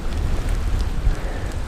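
Steady rain hiss and road spray while commuting on a bike with rim brakes in the wet, a continuous, fairly loud wash of noise with no talking.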